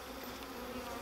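Agitated honeybees swarm around an opened hive during a late-October apiary visit, a dense steady buzzing close by with no speech.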